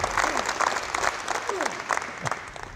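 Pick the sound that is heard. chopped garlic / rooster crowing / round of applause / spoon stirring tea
round of applause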